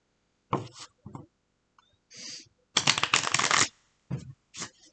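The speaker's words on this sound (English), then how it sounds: "let me shuffle" Tarot cards are shuffled close up in several quick papery bursts, one longer riffling run in the middle, with silent gaps between the bursts and no speech.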